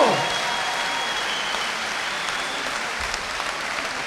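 Applause from the crowd after a men's under-65 kg savate boxe française world final bout, a steady burst of many hands clapping that holds at an even level throughout the short stretch.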